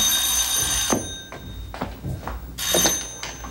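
A telephone bell rings in two bursts at a freight company office, a sustained electronic ring, then a pause with faint shuffling and a soft thump, then the ring again, fairly loud and close.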